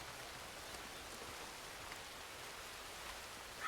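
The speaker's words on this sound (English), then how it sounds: "rain is beautiful, yes?" Steady rain falls in the game Red Dead Redemption 2, a faint, even hiss of drops on surfaces continuing throughout with no talking.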